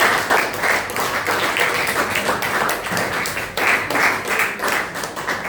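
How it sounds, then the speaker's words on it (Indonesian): Students clapping together in a classroom for classmates' correct answers, steady dense applause with rhythmic taps running throughout at close range. "Tepuk tangan dulu kan?"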